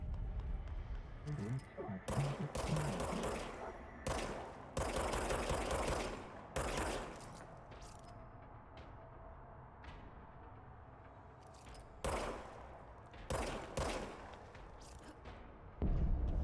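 Gunfire from a gun in the video game Control, coming in several loud, broad bursts of rapid shots separated by pauses, with quieter stretches between them.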